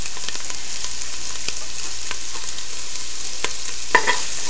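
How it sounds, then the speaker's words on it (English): Garlic, celery and onions fry steadily in oil while being stirred, giving a continuous close sizzle with scattered scraping clicks from the spoon and a brief sharper clink near the end. "Give that a little stir, and we're going to throw in our parsley and our cilantro."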